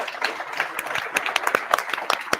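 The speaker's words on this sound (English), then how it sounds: "I think they deserve an applause." A small tech-meetup audience claps for the co-organizers, a sparse and uneven patter of individual claps rather than a dense roar, moderately close.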